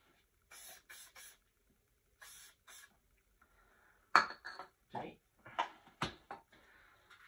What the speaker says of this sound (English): give it a quick little spray with some silicone release